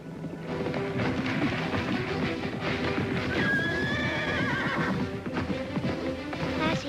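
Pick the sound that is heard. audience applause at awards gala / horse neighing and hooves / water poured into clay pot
horse neighing and hooves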